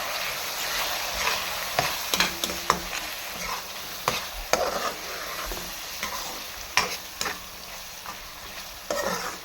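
Red chilli, salt and spices cook in a hot pan with a continuous sizzle, broken by repeated spatula scrapes and knocks against the pan.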